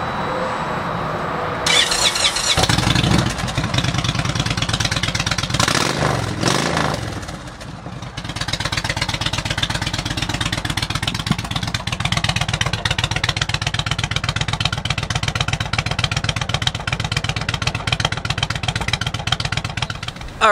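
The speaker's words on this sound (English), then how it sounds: "Let me shut up and fire this exhaust up," An Indian Roadmaster motorcycle engine starts up after a brief rev, then settles into a steady, loud, throbbing exhaust idle that runs close by.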